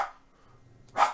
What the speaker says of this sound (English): Excuse the dog there.